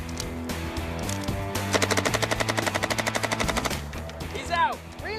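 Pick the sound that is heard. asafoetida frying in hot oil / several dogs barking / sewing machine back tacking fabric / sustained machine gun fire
sustained machine gun fire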